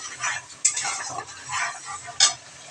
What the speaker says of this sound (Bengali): এবার আমি পেঁয়াজ আদা রসুনটা ভালো করে কষিয়ে নেব